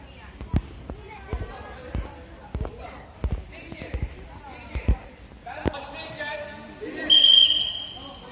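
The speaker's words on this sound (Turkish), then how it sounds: "Düdük çaldı." A sharp whistle blast sounds near the end, after a run of football bounces and footsteps at youth football school training, with voices in the background.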